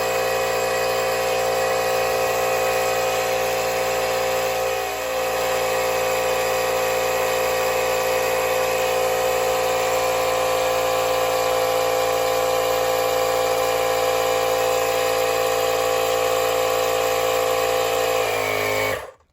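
An M12 inflator pump pressurizes a household natural gas line for a pressure test with a loud, close, continuous motor drone and buzz that holds steady for about nineteen seconds before cutting off abruptly.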